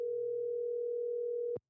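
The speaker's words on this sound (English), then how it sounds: "Now let's see if I can call my own phone here." A telephone call tone sounds while a phone number is dialed, one steady unbroken tone held for about a second and a half before a short click ends it, clear and alone.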